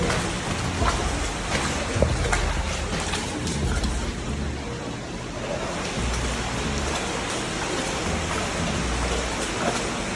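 Steady, loud rush of an underground river echoing inside a sewer collector, a continuous broadband roar with no voices.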